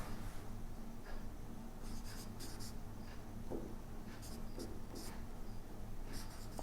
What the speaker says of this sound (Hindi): यहाँ लिखेंगे हम